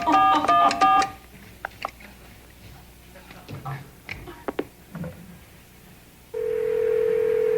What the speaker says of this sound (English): Bronson is actually going to dial the White House.